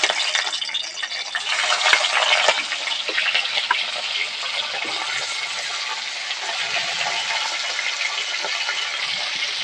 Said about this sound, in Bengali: এদিকে মাথাটা ভাজা হচ্ছে